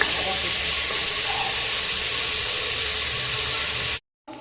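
Chopped onions frying in a pan for a Tamil hotel-style vada curry, giving a steady, loud broadband sizzle that holds evenly before cutting off abruptly near the end.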